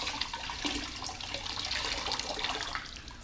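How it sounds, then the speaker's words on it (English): A towel swishes and is wrung out in a water bucket while a Tesla is washed by hand, with continuous splashing and trickling water close up and no talk. "just going to agitate that around in the water bucket, wring it out really good"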